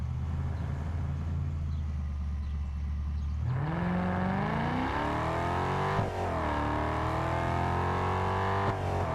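A GT car in Test Drive Unlimited Solar Crown idles low, then revs up hard into a rising snarling howl that holds high, dips briefly and climbs again, loud and close.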